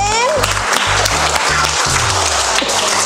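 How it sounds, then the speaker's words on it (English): Students clap together during a school maths activity, a brisk burst of hand claps over a rhythmic low thumping beat with some voices in the background. "Everybody clap them."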